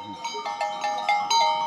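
A few short bleats from sheep in a flock on a snowy Trabzon highland pasture, quick repeated calls close by, with faint background noise.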